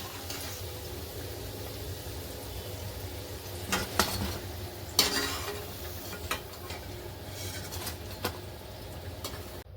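Cauliflower 65 pieces fry in hot oil with a soft, steady sizzle, broken by a few sharp utensil clinks and taps against the pan, quiet and close with no talking.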